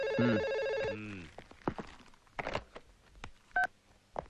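A telephone being dialed: a rapid run of tonal dial beeps opens, followed by scattered clicks and handling knocks of the handset, with a short clear tone later on; no speech over it.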